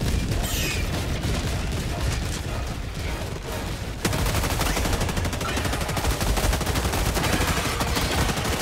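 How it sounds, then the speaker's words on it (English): An orbital barrage strike in Helldivers pounds down as a continuous, loud roll of rapid blasts and gunfire-like impacts, with a heavier surge of explosions partway through. "Firing orbital barrage"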